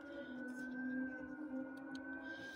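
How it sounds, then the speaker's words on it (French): A wailing emergency vehicle siren holds a steady, loud tone throughout, with a slight rise and fall in pitch and faint background traffic beneath it. "J'ai essayé d'attendre que la sirène ait fini parce que là, ça devenait insupportable."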